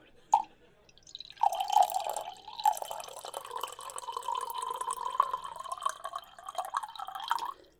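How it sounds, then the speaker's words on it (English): Clear liquor pours from a bottle into a cup in a quiet room, first a single drip, then a steady close trickle that runs for several seconds before stopping. "We'll pour you a bit more then."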